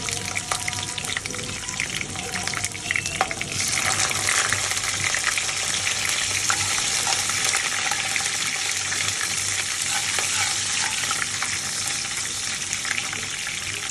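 Onion frying in hot oil with cardamom, cloves, cumin and garam masala, a loud, dense, unbroken sizzle that swells after a few seconds, with faint stirring and no talk.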